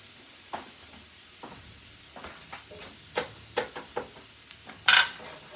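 A fish spatula scrapes caramelized jackfruit in a sizzling pan, giving a series of sharp scrapes and metallic clinks over a soft frying hiss, with one louder clatter near the end.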